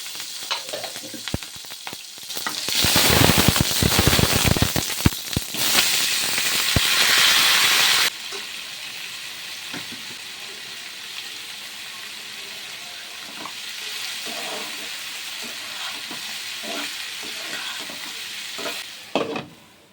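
Vegetable curry for flatbread frying in a pan while being stirred, with loud sizzling and scraping spoon strokes for the first several seconds, then a softer steady sizzle with occasional clinks.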